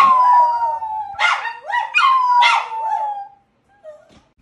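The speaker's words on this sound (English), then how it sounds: "Here, she's learning how to howl." A young three-legged dog howls up close, long rising and falling wails broken into three or four drawn-out calls, then a brief softer whimper at the end.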